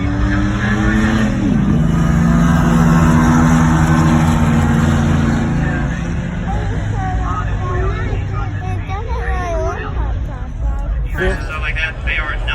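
Street cars roar down a drag strip at an IFO event in Hebron, Ohio, including an LS turbo Camaro, with loud engine revs sweeping up and fading as they pass, then crowd chatter and distant engine noise underneath.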